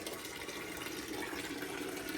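Water, salt water from a hurricane flood, drains out of the engine of a flooded 1972 Corvette, a steady close pouring and splashing into a bucket that continues without a break, with no talk.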